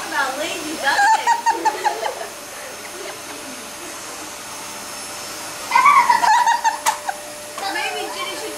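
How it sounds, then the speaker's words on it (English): A household vacuum cleaner runs indoors with a steady, continuous drone throughout, while a person talks over it in two stretches. "I don't lay down on the floor and vacuum underneath the sofas"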